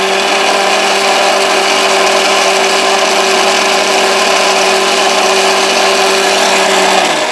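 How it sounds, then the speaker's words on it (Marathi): A mixer grinder runs steadily at high speed, blending papaya leaf paste with a constant loud whine and hum throughout, then begins to wind down at the very end. "ह्याच्यामध्ये आपण परत एकदा मिक्सर लावून घेऊ"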